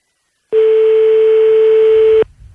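A telephone busy signal, one steady, loud electronic tone held for nearly two seconds and then cut off abruptly, while a call goes unanswered on a radio show.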